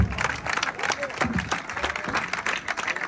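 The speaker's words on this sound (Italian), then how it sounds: "Un applauso a Vittorio" Audience applause at the close of an evening book presentation in Castellabate, dense clapping from a crowd lasting about three seconds, with a voice speaking over it.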